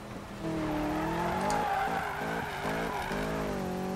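A Camaro Z/28 in Need For Speed 2015 drifts with a loud sustained engine drone, its pitch rising and falling with revs as tires squeal continuously under it.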